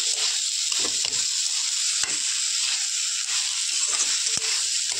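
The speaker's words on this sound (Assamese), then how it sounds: "এনেকৈ কম জুইত ভাজি থাকিব লাগিব, যাতে ইয়াতে পানী নাথাকে" Sour olive pickle mixture frying in a pan over low heat, a steady close sizzle with the scrape and knock of a spoon stirring at intervals, no voices.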